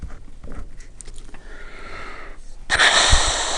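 A single sneeze: a short wheezy intake followed by an abrupt loud burst near the end, close to the listener, with a quiet room before it.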